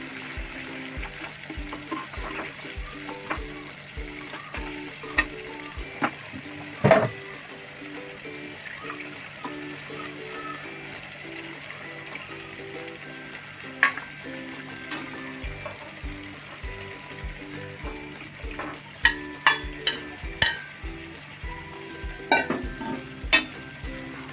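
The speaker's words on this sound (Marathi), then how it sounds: "उकडून घेतलेलं जे पाणी होतं ना, ते थोडंसं टाकलं।" Drumstick vegetable in black masala fries steadily in a pan after a little of its boiling water is added, giving a constant low sizzle with scattered spoon scrapes and clicks.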